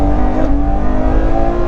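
Ferrari 812 Superfast's 6.5-litre V12 revving hard toward nearly 9,000 rpm, a loud, close, sustained engine roar with a steady tonal note held throughout.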